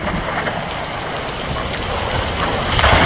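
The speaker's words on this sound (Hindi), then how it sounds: "अब धीरे धीरे बारिश और बढ़ती जा रही थी।" Cartoon rain falling steadily as a dense hiss of drops on surfaces, building slightly louder toward the end with no voices over it.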